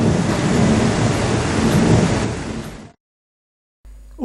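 A nighttime thunderstorm in the Catalan mountains gives a loud, sustained rumble of thunder and heavy rain, then cuts to silence before a short new burst begins.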